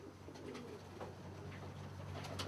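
A gold collar Lucerne pigeon cooing softly in a loft, low repeated coos against a steady background hum.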